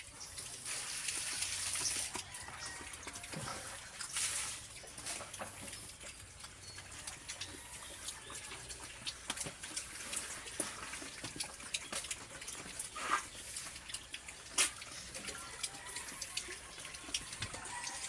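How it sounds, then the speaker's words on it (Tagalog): Water runs steadily at a pig pen during feeding, a continuous close hiss with occasional knocks and clunks, and no talking. "Ayan ang tubig."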